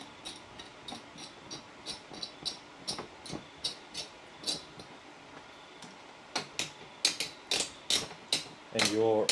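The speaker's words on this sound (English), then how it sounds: "once you get opposite corners in place, it's very easy to screw in the other two corners" Screws being driven into the corner mounts of a Thermaltake S200 TG case during a PC build, a steady run of small ratcheting clicks and ticks close up, growing denser and louder toward the end.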